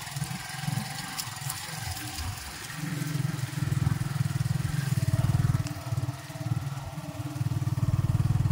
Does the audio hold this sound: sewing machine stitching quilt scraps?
no